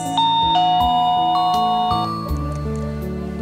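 An electronic doorbell on a digital peephole door camera plays a sequence of bright chime tones, each ringing briefly before the next, clear and close with no talking.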